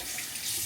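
Cold water runs from a bathroom tap in a short, steady hiss, faint and alone without any voices.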